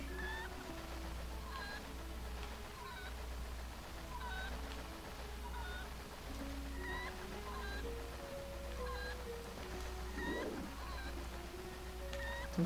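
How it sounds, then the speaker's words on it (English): Chickens cluck and squawk in Zelda: Twilight Princess, a scatter of short calls repeating through the scene over a steady low hum, moderately near. "Oh, well, the chicken fell."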